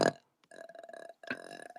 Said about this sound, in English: No, so I just burp.